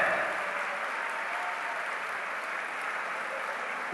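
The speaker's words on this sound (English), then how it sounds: "round of applause for all the interfaith leaders" Applause from an audience for interfaith leaders at a world peace and harmony gathering, a steady dense wash of clapping that holds evenly throughout at moderate level.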